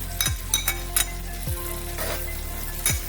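Onions sizzle as they go into a pan of butter with cashews and spices for butter chicken, a continuous frying hiss broken by several sharp clinks and scrapes of a utensil against the pan.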